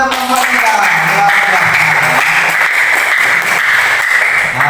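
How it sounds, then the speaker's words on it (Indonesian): Applause for group 3 in a primary school classroom, steady clapping from many pupils that fills the whole span, with children's voices and chatter mixed in beneath it. "Tepuk tangan untuk kelompok 3."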